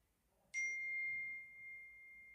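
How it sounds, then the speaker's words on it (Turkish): A phone notification sounds as a single bright electronic ding that rings out cleanly and sustains for about two seconds before slowly fading, with no voices. "Oğlum bir kez daha bildirim geldi."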